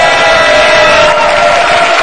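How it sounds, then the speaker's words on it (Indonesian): Crowd noise from a debate audience in a televised 2017 Jakarta gubernatorial debate, a loud sustained roar with cheering and whoops, clapping blended in and continuing steadily for the whole stretch. "Kalau ingin tepuk tangan, saya ajak sekarang semua untuk tepuk tangan"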